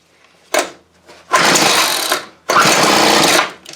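A Weed Eater XT600 string trimmer engine on half choke tries to start: a short pull-start sputter, then two longer rough bursts of engine noise, each cutting out before it catches.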